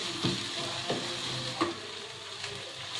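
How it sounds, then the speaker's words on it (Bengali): Spice paste being stirred and fried in a pan for a chal potol dish, with a steady close sizzle broken by several scraping strokes of the spoon and no talking. "আবার ভালো করে মিশিয়ে কিছুক্ষণ ধরে আমি মশলাটা কষাবো।"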